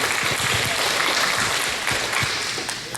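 An audience at an ACLU South Carolina talk gives a final round of applause, a dense close burst of clapping that runs throughout and tapers slightly at the end.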